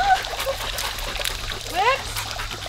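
Water splashing near a parked car as dogs cool off outdoors, irregular splatters and trickles with faint dog whimpers, while people talk nearby.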